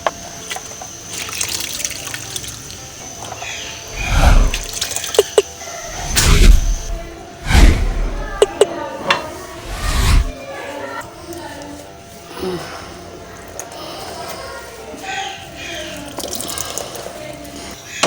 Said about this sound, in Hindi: अब मैं इनको निकाल के तो एक कपड़े से इसका पानी निचोड़ दूँगी आलूओं का।